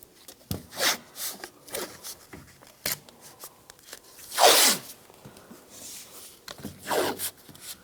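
Masking tape torn and pressed on to hold up a rear window of a 2004-2009 Toyota Prius: a series of short close rips and rubbing crackles, one louder tearing pull in the middle, quiet gaps between.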